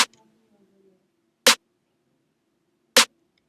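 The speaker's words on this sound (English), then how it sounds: "the first sample is just a super basic snare." A basic snare drum sample, EQ'd with the low end cut, for a trap beat: three crisp, isolated hits spaced evenly about a second and a half apart, with a faint hum under the first.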